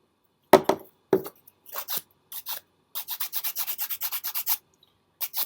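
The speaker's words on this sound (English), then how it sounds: "So we're just going to sand this" Sandpaper rubs a glitter epoxy pen in short, dry strokes: a few scattered scrapes at first, then a quick, even run of about a dozen close, fairly loud passes, with brief pauses between bursts.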